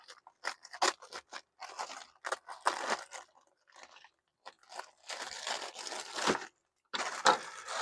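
Close, irregular crinkly snips and crunches of scissors working through plastic packaging, in short bursts separated by brief pauses.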